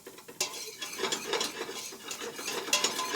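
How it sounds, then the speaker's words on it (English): Curry powder, kaffir lime leaves and lemongrass sauté in a pan for a khao soi curry, giving a soft, busy sizzle with close scraping and clinking from a stirring utensil throughout. "we're going to let that saute for another minute"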